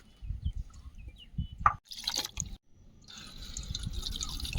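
Ground spice paste is strained while cooking fish, with close wet drips and liquid splashes, a short squelch, then a trickling pour that grows steadier toward the end.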